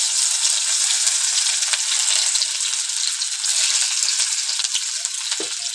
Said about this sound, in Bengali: তো এই তেল গরমের মধ্যে এবার দিয়ে দেব পেঁয়াজ কুচি।